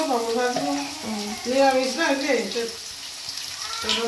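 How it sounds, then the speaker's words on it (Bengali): Potatoes frying in hot oil, a close, hissing sizzle running under a voice that talks through most of the clip. "বন্ধুরা একটু আলুটা লাল লাল করে ভাজা হোক"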